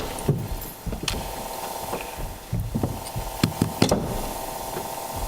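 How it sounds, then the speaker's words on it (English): Knocking on a door during a board meeting in a council chamber: several sharp raps spread over a few seconds, close and moderately loud against a steady room hum, with no talking. "Is that this secret knock?"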